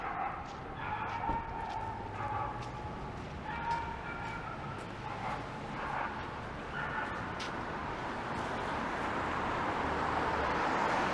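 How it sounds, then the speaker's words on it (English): A dog barks loudly from a balcony, each bark ringing off railings and windows with an echo, repeated in a loose series over a constant outdoor city hum on a winter street. "Maybe a dog is on a balcony barking and that's kind of reverberating between the railing and the windows."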